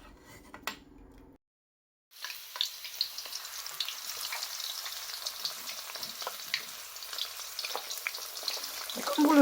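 Beef frying in hot oil with onion slices and thyme leaves, a continuous close sizzle dotted with small pops and crackles that starts after a brief quiet pause and grows slightly louder toward the end.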